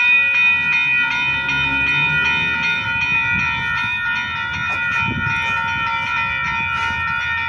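Two trains roll past together in the same direction, loud and close, with sustained horn tones ringing over a rumbling, clattering wheel noise that continues throughout, no talk.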